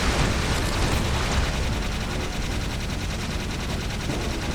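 Rapid-fire bursts from the Vulcan Fury gun in the video game Jak 3, a dense, loud, unbroken rattle of shots with booming impacts throughout, no voices heard.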